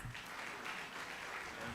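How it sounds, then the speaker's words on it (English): Round of applause from an audience in a university conference auditorium, steady dense clapping filling the whole short stretch at moderate level, no voices over it. "With the huge round of applause."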